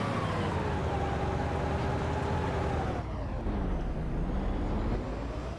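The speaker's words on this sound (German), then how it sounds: "Der Heli rutscht." A helicopter in the video game DayZ hums continuously at close range, its steady engine whine and rotor drone holding a sustained tone that dips in pitch partway through, with faint voices underneath.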